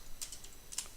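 A US computer keyboard gets two quick, faint pairs of keystrokes, soft clicks against a quiet background.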